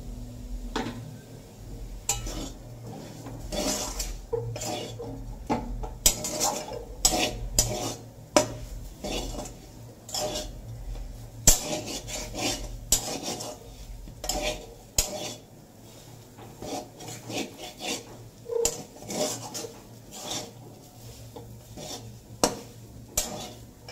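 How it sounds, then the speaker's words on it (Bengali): A spoon clatters and scrapes in a pan while mashed potato filling is stirred with ground spice powders, a busy run of metallic knocks and scrapes that goes on steadily with no talking. "এবার গুঁড়ো মশলাগুলো দিয়ে ভালো করে নেড়ে নেবো।"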